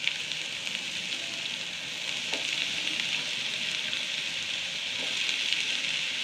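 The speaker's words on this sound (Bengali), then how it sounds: "করলার পেঁয়াজ আর কাঁচামরিচ বেশি ভাজতে হয় না, হালকা ভাজে নিলেই হয়" Onions and green chilies frying with bitter gourd in a pan, a steady soft crackling sizzle throughout, fairly quiet, with a couple of faint utensil taps.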